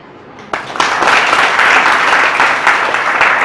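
Audience of students bursts into applause at a motivational seminar, a sudden onset of dense clapping after a brief quiet moment, staying loud and steady throughout.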